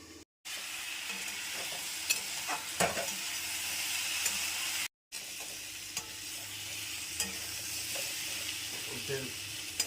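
Onions sizzle in a pan while being stirred, a steady close frying hiss broken by scraping spatula strokes and a couple of brief dropouts, with faint voices in the background.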